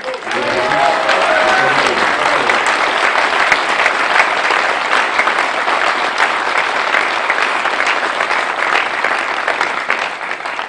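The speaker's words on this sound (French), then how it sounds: "si vous pouviez avoir quelques applaudissements pour les organisateurs" Sustained audience applause at a political campaign rally in La Bazoge, Sarthe, a dense steady wash of clapping lasting throughout, loud and close, with a few voices faintly calling out early on.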